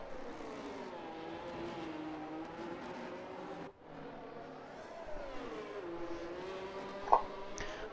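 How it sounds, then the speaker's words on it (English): Race cars in a racing video game lap the Miami circuit, their engines whining in steady tones that rise and fall. There is a brief dip in the middle and a sharp click near the end. "As we watch the cars go around"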